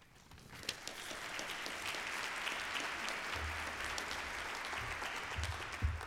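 Lecture audience swells into applause that holds steady and fairly soft, a broad wash of many hands in a hall, with a few nearer claps standing out.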